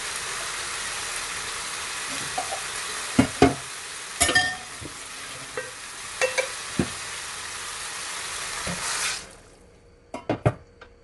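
Goat curry with coconut milk simmers in a pan with a steady soft sizzle, broken by repeated scraping and knocking of a spoon being stirred, before the sizzle cuts off near the end.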